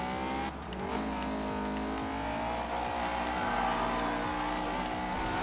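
A race car engine in the video game Forza Horizon 2 roars continuously, its pitch climbing and dropping with each gear shift, with a hint of tire squeal and no talking.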